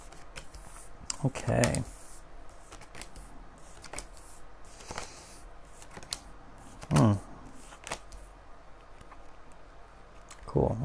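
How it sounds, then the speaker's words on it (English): Tarot cards being shuffled and handled, with bursts of riffling and soft card slaps at irregular moments while a person speaks briefly nearby. "let's pull out some cards, see what we got going on for you"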